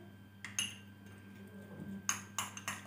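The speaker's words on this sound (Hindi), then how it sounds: "इसके बाद आपको अच्छे से मिक्स कर लेना है इनको" Face pack paste stirred in a small bowl, a few bright clinks and taps of a spoon against the rim, close and quiet, with no talking.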